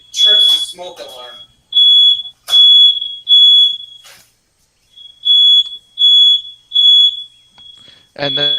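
A household smoke alarm set off by oven smoke beeps loudly in a steady series of long shrill tones, with people talking over the start and again at the end.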